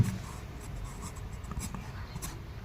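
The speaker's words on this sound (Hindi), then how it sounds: "चलिए यहाँ पर हम लिख देते हैं 78 कड़ी" A pen scratches figures onto paper during a land survey calculation, soft close-up scribbling strokes in short bursts over a low background hum.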